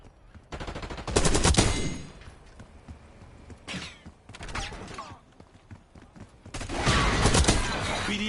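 Bursts of rapid automatic gunfire in a Call of Duty game, loud, close volleys separated by quieter gaps, with a shorter burst in the middle and a sustained stretch near the end.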